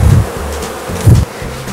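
Honey bees buzz loudly and close as a hive body full of bees is lowered onto a honey super, a low droning hum with two brief louder swells.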